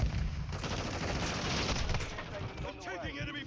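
Sustained automatic gunfire from enemy players in the shooter Call of Duty: Modern Warfare 2, dense and continuous across the clip, with game voices and chatter mixed under the shooting.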